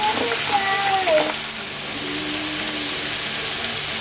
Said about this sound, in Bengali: এখন এখানে আমি পনিরগুলো একটু ভেজে নিচ্ছি